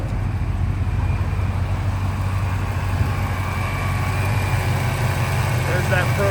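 A ProCharged 5.0 liter V8 idles with a steady, low, even rumble and a faint whine above it, running continuously throughout.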